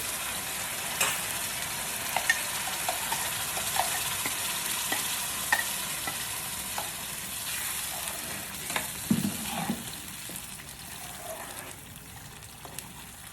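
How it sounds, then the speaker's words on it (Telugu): Blended gravy paste fries in oil in a pan, giving a steady broadband sizzle throughout with scattered spoon scrapes and stirring clinks, close and even in level, without voices. "ఇది కొంచెం పచ్చివాసన పోయే వరకు, ఆయిల్ పైకి తేలే వరకు ఇలా ఫ్రై చేసుకోవాలి."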